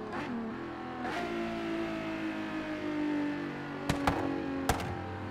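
The Regalia's triple-exhaust engine in Forza Horizon 3 holds a steady, smooth drone that swells slightly, with a few sharp clicks near the end; there is no talking.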